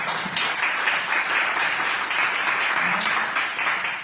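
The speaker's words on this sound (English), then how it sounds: "If I could get some applause for her." Sustained applause from an audience at a civilian oversight board dinner and discussion in a public library, a dense, steady wash of many hands clapping at even loudness throughout, with no voices standing out.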